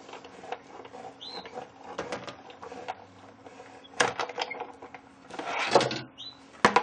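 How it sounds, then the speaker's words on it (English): A Big Shot die-cutting machine is hand-cranked with a cardstock and impressions-pad sandwich, giving a run of close, dry mechanical clicks and scraping rolls, with a few louder knocks along the way. "And slide it through your Big Shot machine."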